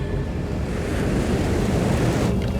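A cartoon wave of rushing water roars continuously, a loud broad surging wash like heavy surf and wind that swells slightly toward the end, with no voices over it.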